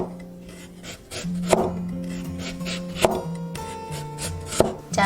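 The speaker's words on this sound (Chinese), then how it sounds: "准备1小节胡萝卜，切薄片" A knife cuts a small length of carrot into thin slices on a board, giving three sharp, well-spaced chops about a second and a half apart, close and crisp over light background music.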